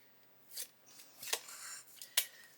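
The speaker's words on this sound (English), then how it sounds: "I'm going to grab some 18mm masking tape." 18mm masking tape handled while working on a 1/8 scale Pocher Porsche 917 model: several short, quiet crackling rips and peels in separate bursts, close and faint against near silence.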